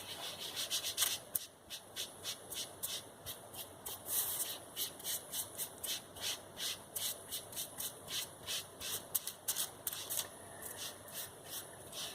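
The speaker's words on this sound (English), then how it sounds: "using these sponges are really good because you can really work over any of the lines that you sometimes get from the dye" A sponge rubs turquoise leather stain into a leather piece in a leathercraft workshop, making a soft, steady scrubbing swish in quick repeated strokes, quiet and close, with no voices.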